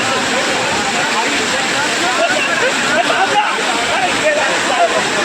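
Steady roaring rush of a monsoon waterfall at Malshej Ghat, broad and continuous throughout, with voices talking over the water.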